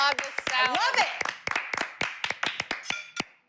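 A few people clap their hands in applause for a salad, a brief burst of sharp, close claps that thin into scattered individual claps, with a voice speaking at the start.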